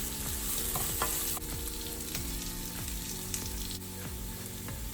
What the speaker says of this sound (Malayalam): പാലക്കില ചേർത്ത് നന്നായിട്ടൊന്ന് വഴറ്റി എടുക്കുക.